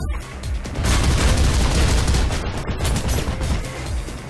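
Sustained gunfire in Mirror's Edge, including machine gun fire: a dense, loud barrage of rapid shots and booms that swells after a brief lead-in and holds steady for several seconds, close and overwhelming with no talking.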